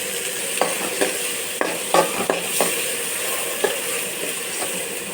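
Spices and ground paste for egg curry sizzle and fry in a pan, a steady hiss broken by sharp scraping stir strokes at irregular moments.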